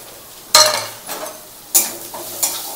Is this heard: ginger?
yes